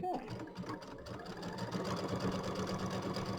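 A sewing machine stitches a quarter-inch seam on a mini quilt, its needle chattering in a fast, steady, close-up rhythm that quickly builds and holds, with a person speaking over it.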